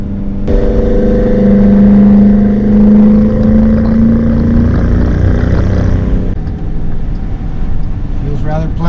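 A steady 475-horsepower AWD SUV engine drone with exhaust rumble while driving, recorded at the exhaust pipe, loud and close, pitch rising slightly through the middle before easing off near the end.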